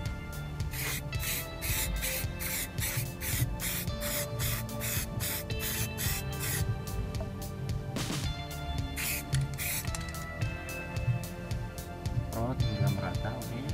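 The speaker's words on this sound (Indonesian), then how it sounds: "Semprot hingga merata, oke." Samurai Paint aerosol spray paint hissing in repeated bursts as surfacer and color coats are sprayed evenly over a metal plate, with a louder sustained spray near the middle, set under steady background sound.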